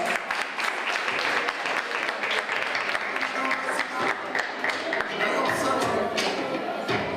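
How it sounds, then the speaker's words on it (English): An audience at a school prize-giving and awards ceremony applauds honor roll students, dense clapping from many hands throughout, fairly loud and close, with a few sharper taps and thumps standing out. "Let's give them a round of applause."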